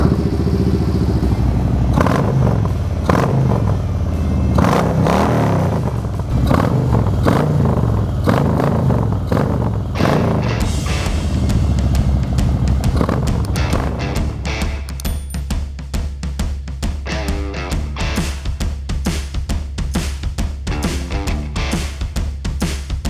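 A custom Harley-Davidson Road King Special fitted with an S&S 124 cubic inch engine fires up close by, blipping through several loud rhythmic revs before settling into a deep, lumpy, steady idle.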